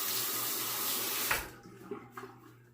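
A tap runs steadily while a razor is rinsed during a wet shave, a continuous broad rush of water that cuts off partway through, leaving a few faint clicks and clinks.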